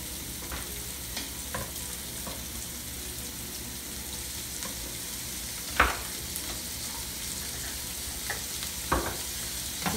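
Minced garlic sizzles in a pan, cooked with shrimp and broccoli, as a steady close frying hiss with occasional spatula scrapes and taps from stirring, and no talking over it.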